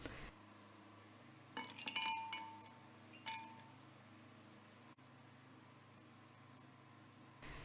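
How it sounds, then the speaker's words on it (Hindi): Ice cubes clinking as they drop into a jug of apple, banana and milk smoothie, a few brief glassy clinks in two small clusters over a faint steady background hum. "फिर हम डालेंगे इसमें बर्फ़ ताकि बहुत ही ठंडा ठंडा"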